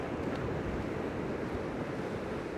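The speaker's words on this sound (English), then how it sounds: "The waves seem to be calming down a bit, though." Ocean waves wash onto the shore at a beach park in strong wind, a steady loud roar of surf and gusting air with no voices.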